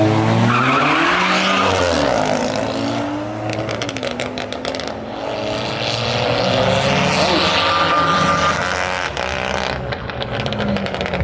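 A car skids and revs hard on a wet track at a motorsport event, with loud continuous engine and tire noise that swells and fades throughout.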